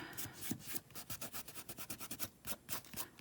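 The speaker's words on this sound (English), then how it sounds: "the more you rub in one area, the more of the ink it'll remove" Paper is rubbed rhythmically to lift off ink, a close, quiet back-and-forth scrubbing with steady repeated strokes and no talk.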